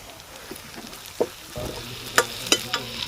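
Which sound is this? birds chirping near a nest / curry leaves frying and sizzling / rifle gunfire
curry leaves frying and sizzling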